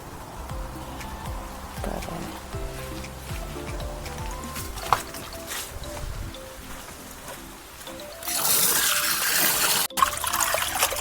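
Tap water runs steadily while sardines are washed in a kitchen, a soft splashing hiss with clinks and handling noises, swelling into a louder gush near the end.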